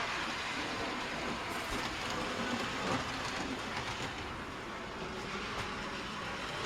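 A model train on a loft layout rolls continuously over freshly cleaned track, a close, steady rumble with faint rhythmic clicking of the wheels.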